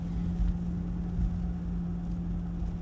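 A 2023 Porsche Taycan electric car drives along with a steady low hum and a constant synthetic tone. The sound stays even and continuous throughout, with no voices.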